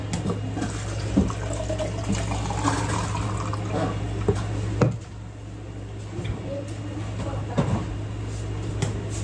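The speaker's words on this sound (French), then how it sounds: "Je le remplis d'eau." Water running from a tap into a cup, a steady close stream with a few knocks and clinks of handling over a low background hum, no talk.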